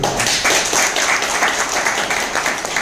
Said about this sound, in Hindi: वो 6 लोगों के लिए ताली हो जाएगी